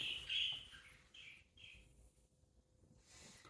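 Pet budgies chirp in a home setting, a bright, high burst of chatter near the start followed by a few shorter twittering calls, then the room falls mostly quiet before faint chirps return at the end.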